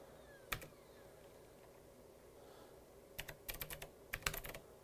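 Keystrokes on a computer keyboard during setup of a Commodore 64x build: one isolated tap early, then two quick bursts of several crisp, close clicks near the end, with no talking over them.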